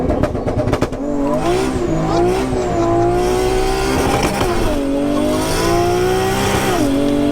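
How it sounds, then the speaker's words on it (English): A 1JZ-powered Nissan S13 with an M4 DCT gearbox launches hard on launch control, its engine screaming loud and close through rising gear pulls while the tires spin and squeal. "This time he's going to try launch control and absolutely go for it."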